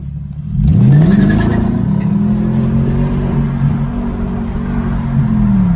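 A BMW 645ci from the early 2000s accelerates at half throttle, its engine note rising sharply then holding a strong, steady drone, loud and close with road rumble underneath.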